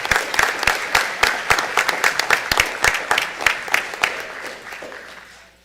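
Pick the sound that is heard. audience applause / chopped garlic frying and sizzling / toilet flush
audience applause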